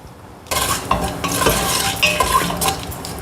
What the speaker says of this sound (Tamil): அது பொரியும் பாருங்கள் கிராம்பு